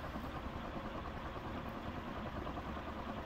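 A Hampton Bay Industrial 56-inch ceiling fan turning at roughly 200 RPM gives off a faint, steady whooshing hum with a low motor drone, unbroken and even throughout.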